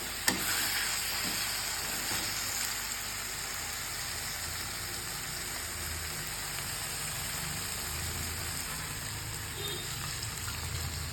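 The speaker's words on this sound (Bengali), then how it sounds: "মশলা ভালোভাবে কষে গেছে, এবার আমি এর মধ্যে দিয়ে দেবো জল" Water poured into fried, oil-released spice paste in a pan while making Katla fish curry gives a steady, even hiss of sizzling and bubbling that lasts the whole time, close and loud, with no talking.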